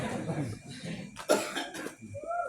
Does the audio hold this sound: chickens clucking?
no